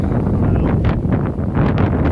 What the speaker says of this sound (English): the wind has kicked up. Those gusts have got to be 50 mile an hour